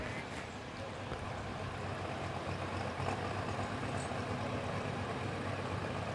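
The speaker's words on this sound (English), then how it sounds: "They used to run this tractor all the time with one big single turbocharger underneath the hood." A turbocharged Moline pulling tractor roars steadily at a county fair tractor pull, a dense continuous engine drone with broad rumble and hiss, moderately distant and unchanging throughout.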